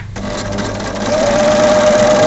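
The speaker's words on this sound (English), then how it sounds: "So we're going to close up and start stitching." An overlocker runs steadily at close range, stitching and trimming the flange of sewn piping, with a continuous fast mechanical whirr that builds slightly in loudness.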